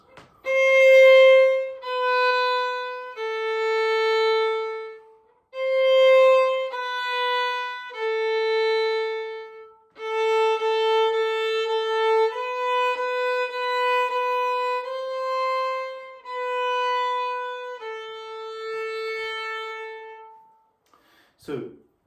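Bowed string instrument played with the second finger right beside the first, a run of sustained, clear bowed notes one after another with short gaps, close and alone.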